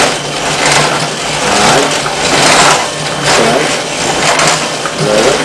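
A pedal-driven axial flux alternator spins up, giving a steady, close, broadband whirring noise that swells and eases in a slow rhythm with each pedal stroke. Nobody speaks.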